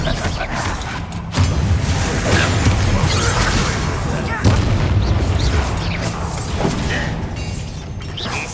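Confringo fire spells burst in Hogwarts Legacy combat on PS5: two heavy booming blasts over a dense, loud wash of clattering battle noise.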